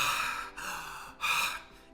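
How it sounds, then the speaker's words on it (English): A single slow breath in and out during a holotropic breathwork demonstration, heard close and alone: a breathy inhale, a brief pause, then an audible exhale. "So what's the difference between this 1 breath in and out"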